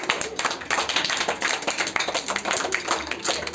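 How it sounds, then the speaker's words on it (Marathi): Classroom applause: a group of children claps steadily and briskly for several seconds, dense overlapping hand claps at close range with no talking. "स्वरासाठी पण जोरदार टाळ्या वाजवा."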